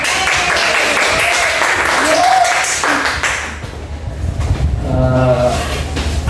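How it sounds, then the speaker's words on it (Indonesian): Students in a classroom clap their hands together in a brief burst of applause that fades midway, followed by people talking. "Oke, tepuk tangan dong."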